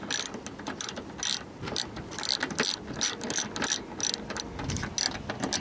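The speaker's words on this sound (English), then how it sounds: "tighten this down with my socket here" A socket ratchet tightening the air filter housing on a 2014-2018 GMC Sierra with a 4.3L V6, rapid close clicking bursts in short repeated strokes.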